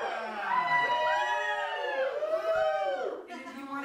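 A small audience at an improv comedy show whoops and cheers, with several voices rising and falling in loud yells for a few seconds.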